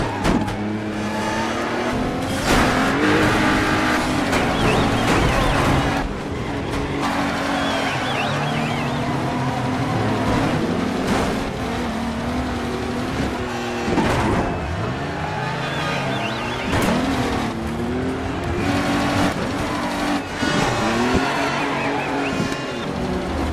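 Race cars in the Dirt Showdown demolition derby video game roar and rev loudly, engines wailing up and down over continuous pitch sweeps, with skids and crunching impacts layered throughout.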